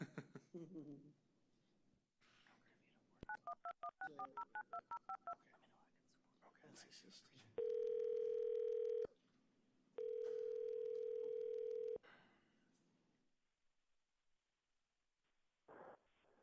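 Telephone keypad dialing tones at a meeting: a quick run of about a dozen short beeps, then two long steady tones, with muffled talk and room noise around them.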